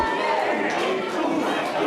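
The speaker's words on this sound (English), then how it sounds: "you can hear the excitement from the crowd here" Crowd noise at an independent pro wrestling match, a steady roar of cheering and chatter filling the arena continuously with no break.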